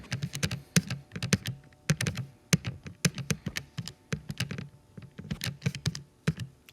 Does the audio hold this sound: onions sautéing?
no